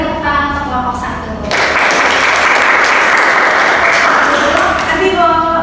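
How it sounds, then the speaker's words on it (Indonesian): A class claps loudly for a student group in a classroom, a dense burst of applause that swells up after a brief stretch of talk and carries on steadily before fading. "silakan beri tepuk tangan untuk kelompok 1"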